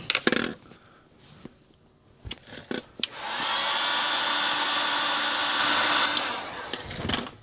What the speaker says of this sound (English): Let me get my heat gun.